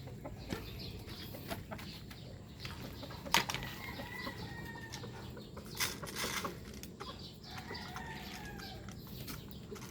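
Incubator-hatched White Kelso chicks cluck and peep softly in scattered short bursts over a low, steady farmyard background, with a few faint flutters.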